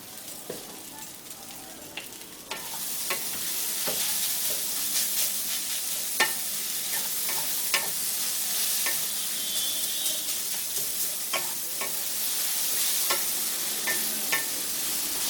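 Chirer pulao, flattened rice with vegetables, being stirred in a hot pan, a continuous sizzle with frequent scraping spoon strokes, growing louder after the first couple of seconds and staying steady.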